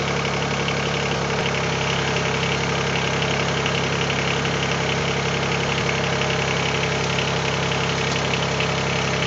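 A Mahindra eMax20s HST tractor engine runs steadily while the rear hydraulics raise during backhoe work. It is a loud, continuous, close drone with a low rumble and no talking.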